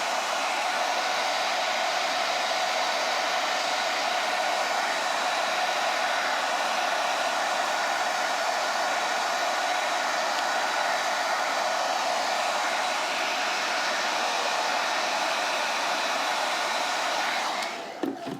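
A hair dryer blows without a break to dry paint on a Christmas craft, a loud, even whoosh held close, then cut off with a click at the end.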